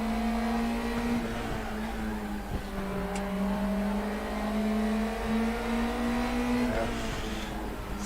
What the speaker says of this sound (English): I'm pinging it on the rev limiter on the downshifter first